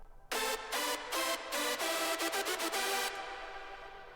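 One layer of bright hardstyle synth chords programmed in FL Studio plays solo in a pattern of short stabs followed by a fast burst of hits, then a soft decaying tail, clear and loud without speech.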